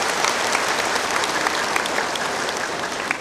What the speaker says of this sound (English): Please give him a very warm round of applause